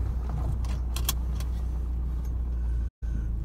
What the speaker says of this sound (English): We're just driving around Pleasurewood Hills.